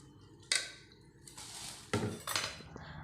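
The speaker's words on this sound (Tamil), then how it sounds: "இப்போ நான் அரிசியை சேர்த்துக்கிறேன்." Soaked rice is tipped into a pot of boiling water for horse gram biryani, with sharp metallic clinks of a utensil against the pot and a gush of pouring and bubbling in between, close and fairly loud.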